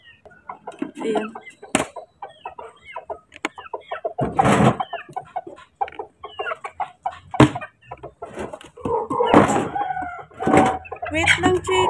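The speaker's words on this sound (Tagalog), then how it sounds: "Itong manok na to." Chickens clucking busily and close, overlapping short calls throughout, with a rooster's crow rising among them and several sharp loud bursts scattered between the clucks.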